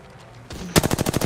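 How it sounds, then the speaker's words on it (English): Automatic weapon fire in the battle royale game Apex Legends: after a short build-up, a loud rapid burst of evenly spaced close-range shots rattles through the second half. "Getting shot at."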